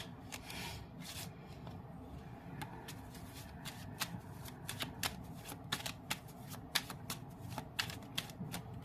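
Tarot cards being shuffled up close, a steady run of soft riffling and slapping card sounds with sharper flicks scattered through, and no voices.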